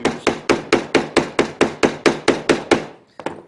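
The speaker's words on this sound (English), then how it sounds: "just kind of beat down on that knot just a little bit with our hammer, just to set it" A hammer beats a thread knot on a leather sheath, about a dozen sharp, evenly spaced close taps, then a short pause and one last strike.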